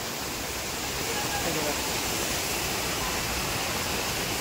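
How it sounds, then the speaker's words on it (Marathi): A waterfall roars in heavy rain outdoors, a dense, steady broadband rush that fills the whole stretch without pause, loud and continuous. "ते बघा धबधबा, ते बघा धबधबा कोल्हे वज्रावरती"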